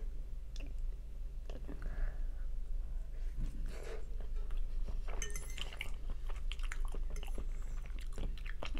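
Someone eating mango sticky rice, with soft, close chewing over a low steady hum, broken by occasional clinks of a spoon against a dish and a few light taps.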